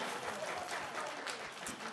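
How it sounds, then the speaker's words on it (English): Audience at the 2014 CARAH Awards applauds the presentation of the Excellence in Science and Technology Award. The clapping is steady and even, a soft, distant wash of many hands with no talk over it. "the people you hear applauding, they know who this award is going to go to"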